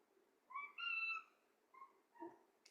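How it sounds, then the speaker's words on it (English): A cat meows a few times close by, drawn-out calls with a short pause between them, in an otherwise quiet room. "That's my little healer cat, Hanji."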